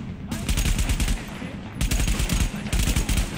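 Bursts of automatic gunfire in the video game Tom Clancy's The Division, loud rapid volleys in two long runs separated by a brief pause.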